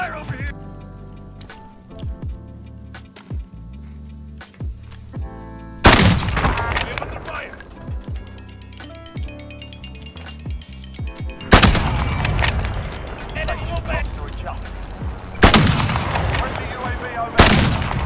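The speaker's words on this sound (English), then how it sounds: "You shouldn't be able to shoot that fast, man." Rapid gunfire in a video game sniper match: loud bursts of shots and booms hit in three sharp clusters, with talk and game sounds in between.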